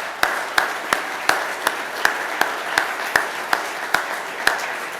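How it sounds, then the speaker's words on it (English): Steady, regularly spaced claps at an annual general meeting, about a dozen sharp even strikes over five seconds, moderately close with a faint hiss of room noise behind. "So if we could all just give a round of applause"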